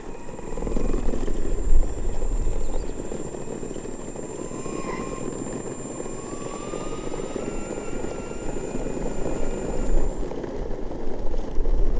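A DJI Phantom 4 quadcopter drone flies nearby on an active-track test around a house, its steady rotor whine holding throughout, with a rising buzzy tone as it moves, over outdoor background noise.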